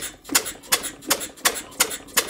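A small Westbury Wyvern model open crank engine starts, popping and puttering in a quick, regular rhythm of sharp bursts, close and fairly loud, with no talking.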